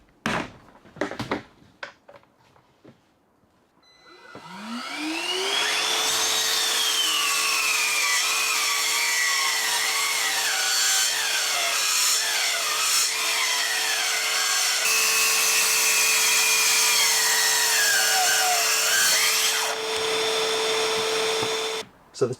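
A Bosch Professional BITURBO GKT 18V-52 GC cordless plunge circular saw cuts 18mm MDF on a 2Ah battery with a dust hose attached: a few handling clicks, then a loud spin-up into a sustained high whine and roaring cut lasting about fifteen seconds.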